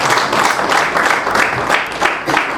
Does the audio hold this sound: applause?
yes